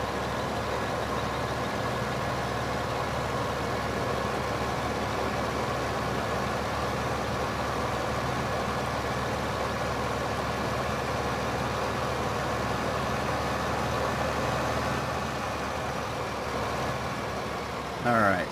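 A large tractor engine chugging steadily in Farming Simulator 2015, heavy and loud, with a strained, laboring drone that holds at an even level from start to finish.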